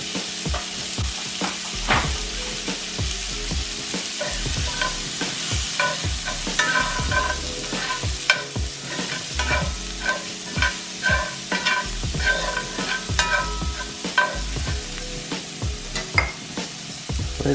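Cauliflower rice and tomatoes cooking in avocado oil in a pan, with a steady sizzle and frequent clacking stirs from a utensil, close up and without speech.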